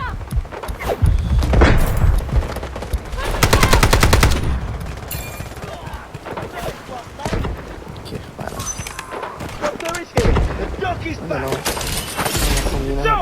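Rapid automatic gunfire bursts from the mobile shooter game Delta Force Mobile, with AKM rifle fire, loud close volleys and shattering impacts, mixed with game voice lines and someone talking.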